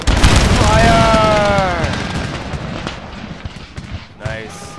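A musket volley from massed line infantry in Empire: Total War (Darthmod) erupts in a loud, rolling boom that decays over several seconds. A second, smaller crackle of shots follows, and a voice calls out over the din.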